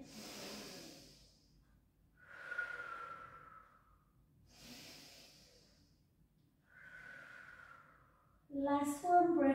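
Slow deep breaths during a Pilates hamstring stretch, four long inhales and exhales alternating at an even pace, close and soft, with a brief louder voiced sound at the end.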